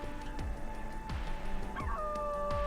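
Cartoonish dog barks and yips from The Doge Island video game, several short sharp barks spaced about half a second apart over a steady hum, with a brief whimpering whine near the end.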